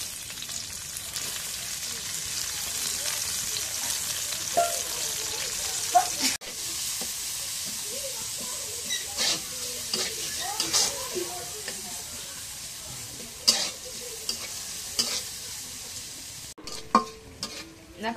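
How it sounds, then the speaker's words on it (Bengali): Chopped green chillies and onions frying in oil in a wok, with a steady sizzle and intermittent stirring scrapes; a voice speaks faintly at times. "এখন কাঁচামরিচ কাটা পেঁয়াজ কাটা দিয়ে দিই।"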